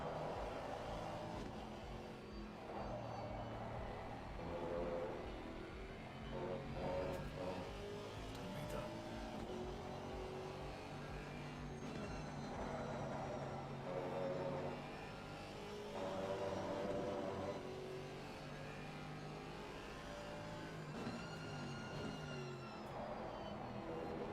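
Race car engine in Gran Turismo 4 revving steadily through gear changes, a continuous droning whine that rises and falls across the run, loud and close, with faint voices now and then.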